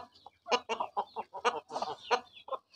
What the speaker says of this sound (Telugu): మొత్తం పెట్టలన్నీ ఇక్కడే ఉన్నాయి